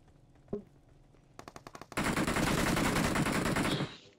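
Gunfire in BGMI: a few separate shots, then a sharp rhythmic burst, then a dense, loud sustained volley of automatic fire that continues for about two seconds before stopping abruptly.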